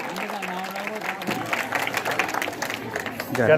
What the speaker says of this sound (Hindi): जोरदार तालियों के साथ सरपंच साहब का स्वागत किया जाए